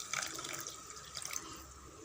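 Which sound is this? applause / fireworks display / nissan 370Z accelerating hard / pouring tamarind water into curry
pouring tamarind water into curry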